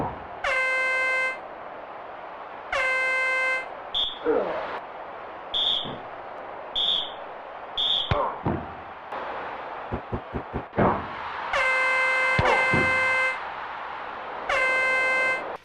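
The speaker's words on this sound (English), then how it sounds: "What is with the constant barrage of air horns and whistles going off in the audience during this game?" Crowd air horns and whistles from the audience in the WWF Raw wrestling video game, blaring in repeated loud, stacked blasts with short gaps, mixed with sharp thuds and rapid clattering impacts between them.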